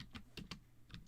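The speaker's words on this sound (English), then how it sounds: "She's typing." Someone types on a computer keyboard in quick, irregular soft clicks, close by and alone.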